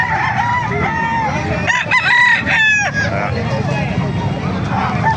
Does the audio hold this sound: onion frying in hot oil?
no